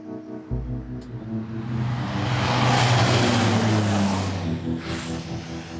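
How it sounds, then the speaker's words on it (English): A small aircraft at Lukla airport runs up to full power on the runway threshold, the engine roar swelling loudly and steadily, then fading slightly as it rolls away. "They sit at the end on the threshold, full power, brakes on, and then whoomph, they're off."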